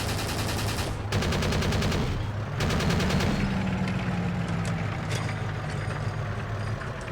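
Machine gun bursts in the video game Forgotten Hope 2, rapid rattling volleys over a steady idling tank engine drone, with bursts around the first and third seconds, loud and close.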